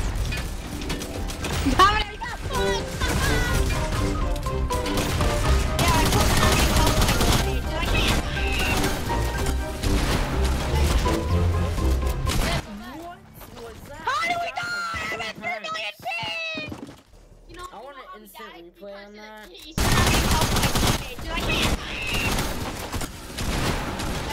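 Gunfire in Fortnite, dense bursts of rapid weapon shots and clattering game effects, loud and near, with a quieter stretch midway before the shooting resumes; players chatter over the game sounds.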